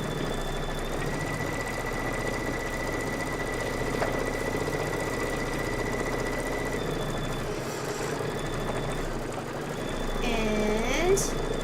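Computerized embroidery machine running a quilting stitch pattern, a steady mechanical whir with a continuous hum, with a person talking over it and a brief shift near the end.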